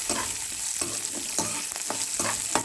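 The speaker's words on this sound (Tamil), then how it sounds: "வெங்காயம் கொஞ்சம் நல்லா வதங்கி வரட்டும்" Onion sautés in a pan for curry leaf chutney, a bright steady sizzle broken by regular spatula stirs and scrapes, close and with no talking.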